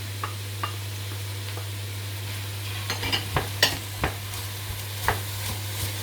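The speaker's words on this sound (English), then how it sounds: "And I'm going to add the kohlrabi now, because it also needs a little bit longer to cook." Kohlrabi and broccoli stems fry over high heat, with a soft constant sizzle and scattered clicks and scrapes of stirring over a steady low hum.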